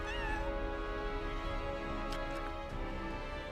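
A cat meows in Final Fantasy 7 Rebirth, a few plaintive mews over steady game background music, with no talk.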